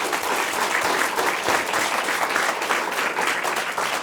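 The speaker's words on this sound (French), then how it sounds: "On peut l'applaudir bien fort" Audience applause in a studio for the Bistro Libertés talk show, steady dense clapping filling the room for about four seconds with no voices over it.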